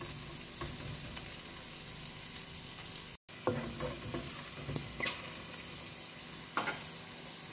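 Chillies frying in oil in a pan, a steady close sizzle broken by several sharp clinks and scrapes of a spoon stirring against the metal.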